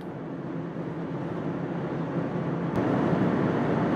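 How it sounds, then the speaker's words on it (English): A 2010 Subaru Outback 2.5i with CVT whines steadily under a constant cabin drone while driving, swelling slightly louder toward the end; minimal wind and road noise, no voices. "besides the engine whining away, minimal wind noise, minimal road noise"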